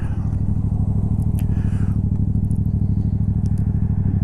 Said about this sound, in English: the exhaust on the motorcycle is so loud, that unless you're sitting at a stop, you can't hear other traffic anyway.